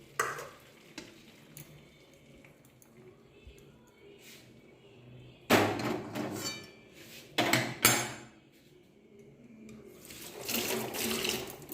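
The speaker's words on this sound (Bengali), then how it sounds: "এইভাবে আমি ফুটো থালার মধ্যে এটা জলটা ঝরিয়ে নেব।" Water from boiled noodles for egg chicken chow mein pours through a colander into a sink, in bursts of splashing and rushing water separated by quieter gaps with light clatter of the pot.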